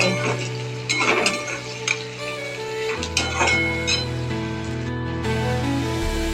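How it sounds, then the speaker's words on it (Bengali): Two medium chopped onions frying in a pan with spices, a steady sizzle under intermittent scraping and clinking stirring strokes, close and moderately loud with no talking. "পেঁয়াজটা হালকা ভাজা হয়ে গেছে"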